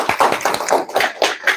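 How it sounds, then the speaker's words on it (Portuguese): Small event audience of an entrepreneurs' gathering in Joinville claps for someone speaker, sparse individual hand claps in an uneven rhythm, close and fairly loud. "Ita Batista, uma salva de palmas."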